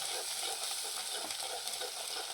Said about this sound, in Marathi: व्यवस्थित तेल सुटेपर्यंत यांना आपण फ्राय करून घेणार आहोत